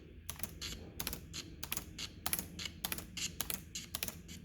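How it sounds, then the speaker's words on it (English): Spacebar and escape keys tapped on a computer keyboard to test game audio lag, giving sharp, close clicks in an uneven rhythm of about a dozen presses, with no voices. "I'm going to have my thumb here on spacebar and my middle finger on escape."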